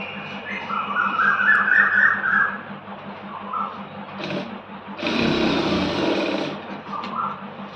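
A sewing machine stitches fabric in fast mechanical bursts, close and fairly loud, with a brief pause and then a second sharp run.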